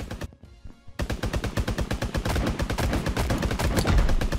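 Rapid, loud gunfire in the Mini Royale battle royale game, a dense string of sharp repeated shots after a brief quiet gap near the start, continuing steadily to the end, with no speech.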